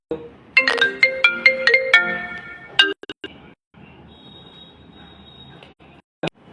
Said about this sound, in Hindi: बीच बीच में ना फोन भी आ रहा है तो मैं डिस्टर्ब हो रहा हूं।